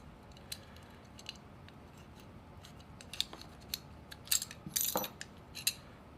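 Small parts and springs popping out of a Sig P228 pistol's lower frame during disassembly of the sear pin, heard as faint sharp metallic clicks and clinks, a few scattered ticks building to a cluster of louder snaps.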